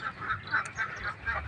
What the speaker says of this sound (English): That's them Zhejiang ducks.